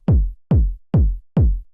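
Clean, undistorted 909 kick drum in an electronic production, four punchy booming hits with pitch-dropping tails at an even dance tempo, loud and alone.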